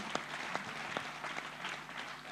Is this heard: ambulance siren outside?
no